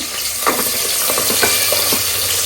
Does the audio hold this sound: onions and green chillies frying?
yes